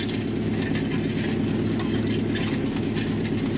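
A farm tractor engine pulling a potato hiller through a field, running as a continuous, steady low mechanical drone at moderate distance with no voices.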